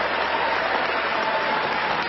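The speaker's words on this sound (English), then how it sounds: "a great round of applause for Novak for a great effort" Steady, dense applause from a crowd at a tennis trophy ceremony honouring Novak, unbroken and fairly loud for about two seconds.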